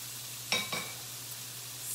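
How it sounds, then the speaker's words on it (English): Vegetables frying in a pan, a faint steady sizzle with two brief scraping stirs near the start over a low kitchen hum. "So, my vegetables are sizzling along."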